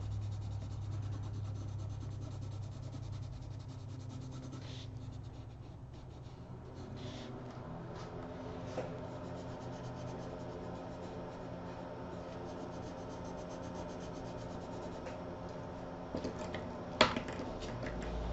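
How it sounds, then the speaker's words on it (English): Steady rubbing and scraping as a hand-carved wooden apple is burnished, a continuous close friction sound with a sharper scrape near the end, no talking. "Okay, back to burnishing."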